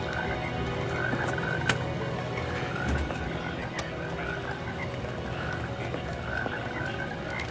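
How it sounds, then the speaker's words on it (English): Continuous chorus of croaking toads falling from the sky in a TV scene, many voices overlapping at a steady level, with a few sharp clicks scattered throughout. "Mulder, toads just fell from the sky."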